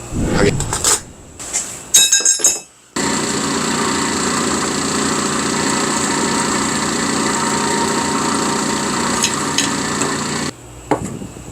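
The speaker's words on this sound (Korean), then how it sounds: "옆에 구멍 뚫고 나사내면 됩니다." Drilling a hole in a parasol pole extension pipe in a workshop: a few knocks and clatters first, then a steady droning motor whine holds for about seven seconds before cutting off.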